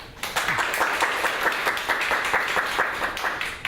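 An audience applauds to welcome speakers at a talk, steady continuous clapping from many hands in a room, moderately loud and sustained with no voices over it.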